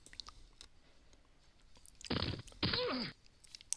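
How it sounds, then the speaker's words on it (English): Chewing crunch of a stray Dorito tortilla chip close to the microphone, two short loud crackly bursts in quick succession during an otherwise quiet stretch of football commentary. "If you hear me crunching something, I think that's an errant piece of a Dorito."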